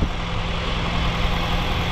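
A Honda Jazz engine, once stuck and now running again with its radiator being flushed, idles steadily with a low, even hum and a constant droning tone throughout, with no voices.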